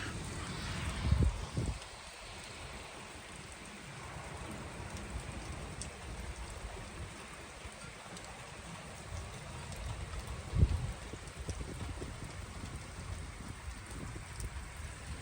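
Rain falls steadily outdoors in a garden during a stormy day in Zonguldak, a constant soft hiss of drops with a couple of brief low thumps standing out near the start and again later.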